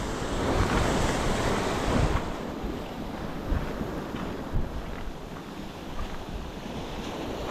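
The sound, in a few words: wind and waves on the shore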